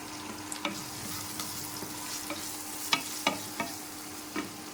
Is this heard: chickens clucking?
no